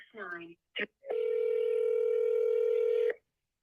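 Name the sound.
telephone dialing out for a wholesale real estate call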